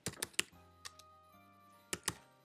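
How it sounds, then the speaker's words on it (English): Keys on a computer keyboard are tapped in quick, close clusters of clicks separated by short pauses, faint and near, with a quiet background tone. "or you could type directly to the editing field. Let's type here,"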